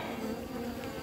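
Honeybees swarm around an open divisible beehive on a cold morning of about five degrees, making a steady, close, continuous buzz that holds evenly throughout with no talking.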